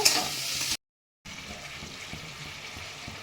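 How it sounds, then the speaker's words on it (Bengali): Stirring sour-spicy-sweet amla pickle in a pan after a little sugar goes in, a soft scraping and low sizzle running close and steady, broken by a brief silent gap before the stirring resumes. "চিনি দিয়ে দিলাম, অল্প চিনি। যেহেতু আচারটা টক টক ঝাল ঝাল মিষ্টি মিষ্টি হবে, যেন অল্প চিনি দিলাম। একটু নাড়াচাড়া করে নেব।"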